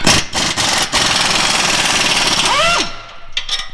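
Muffler hanger bolts being removed from a Toyota Tacoma exhaust with a power tool, a loud close rattling impact burst with a short whine near the end, then quieter clanks.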